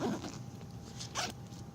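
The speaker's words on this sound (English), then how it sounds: "Like these zippers." A backpack zipper is pulled in a couple of quick, scratchy strokes, close and clear against quiet background.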